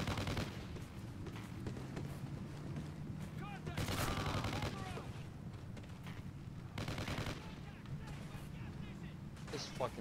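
Light machine gun fire in Call of Duty: Ghosts, heard as a steady stream of rapid shots with heavier bursts, faint overall, with someone talking over it.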